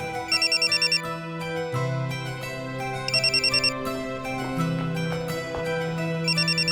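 A telephone rings in repeated electronic bursts, a bright trilling ringtone pattern recurring several times over a steady tonal backdrop.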